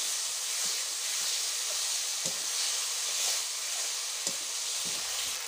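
Chopped onion and tomato hiss and sizzle steadily in hot oil with black cumin and bay leaf for a Bengali rui fish kalia cooked in a village kitchen, the crackle constant and close, with soft stirring taps now and then.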